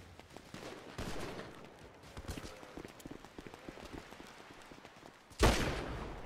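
Gunfire in the FiveM online game: scattered faint shots and clicks are followed by one loud, sharp burst near the end, over a low background of game noise.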